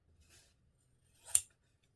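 Short-bladed, pointed tailoring-style scissors cut doll-clothes fabric in one crisp snip after a faint earlier rustle, close and brief against near silence.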